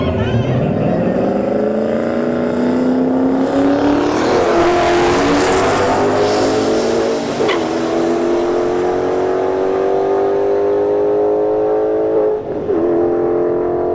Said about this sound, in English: we got the 88 millimeter turbo LTD wagon in the right lane, and an S197 Mustang here in the left lane